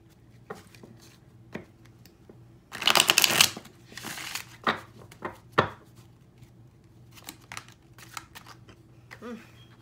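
Tarot cards are shuffled in bursts of rapid riffling flutter, separated by softer taps and rustles of cards being handled close by.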